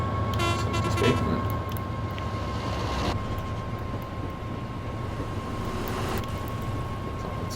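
A freight train horn in Train Sim World 5 sounds steady tones over the constant rumble of a cargo train running near Haringey, heard close and loud with no speech.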